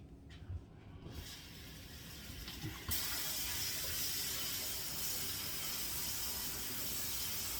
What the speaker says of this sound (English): rice is going to go into a sifter here, and I'm going to rinse it off